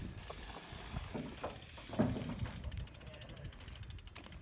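A BMX bike's rear hub ratchet gives off a rapid, fine clicking that starts around the middle and speeds into a dense buzz, close by, over background rumble and faint voices.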